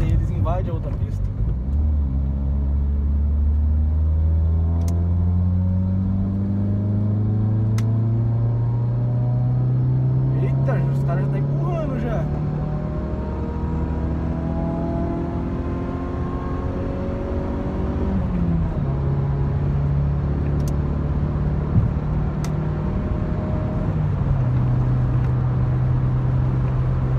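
Car driving on a road at night with the driver holding the accelerator steady, a loud continuous engine hum whose pitch rises and falls with gear changes.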